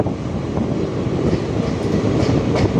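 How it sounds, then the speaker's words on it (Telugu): An Indian passenger train with ICF coaches rolls along between Berhampur and Khurda Road, a steady low rumble and rattle of wheels on track heard from inside a carriage, continuous and fairly loud with faint clacks. "మన ట్రైన్ ఇంకా ఐసీఎఫ్ కోచ్తో నడుస్తుంది"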